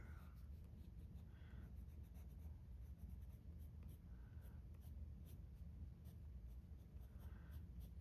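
Soft, steady scratching of a colored pencil burnishing a drawing on paper, with several short bursts of strokes at close range over a low background hum.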